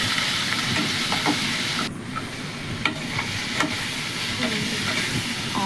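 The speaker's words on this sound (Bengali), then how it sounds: "আবার একটু নেড়ে নেবো, দেবো আদা রসুন বাটা, একটু নেড়ে নিয়ে দেবো টমেটো কুচি" Ginger-garlic paste and chopped tomato are stirred into hot oil in a frying pan for a fish-head curry, a steady close sizzle broken by scraping stirs and soft clinks.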